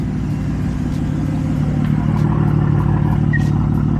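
A BMW F80 M3 idles loudly with a steady low rumble and slight rises in revs, the exhaust with an ineffective muffler droning continuously throughout.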